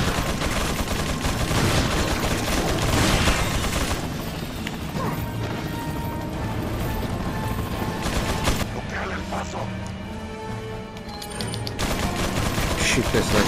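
Repeated gunfire from the video game Resident Evil 4, heavy shots cracking out in close succession with crashes and impacts, loud and dense throughout, with game music and effects layered underneath and a brief quieter stretch midway.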